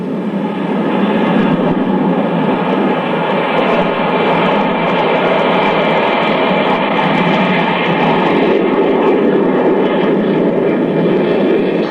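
An RAF jet aircraft flies over at the 1966 Auckland Airport opening. Its loud, continuous broadband roar fills the whole stretch without a break.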